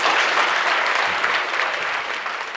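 An afternoon conference audience applauds steadily, dense clapping filling the room at full volume and tapering slightly toward the end, with no voices over it.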